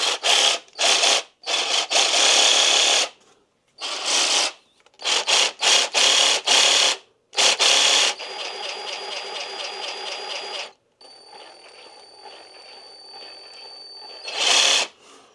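A cheap cordless Makita-compatible jigsaw from AliExpress runs in short bursts of buzzing, rapid blade stroking, then settles into two longer steady whirring runs at different pitches, loud and close, with no talking.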